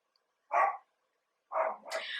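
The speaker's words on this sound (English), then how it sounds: "I'm sorry if you can hear my dog barking." A dog barks twice, the second bark trailing into a short higher yelp, in quiet surroundings.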